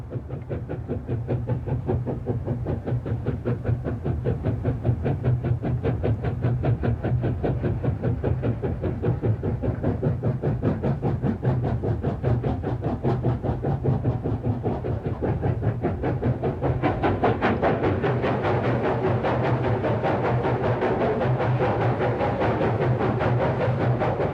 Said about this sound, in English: the train passed through one tunnel after another